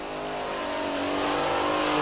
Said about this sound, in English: It's a cab over Brockway, but underneath the big cab is a V12 Detroit diesel engine.